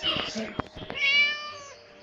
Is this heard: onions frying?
no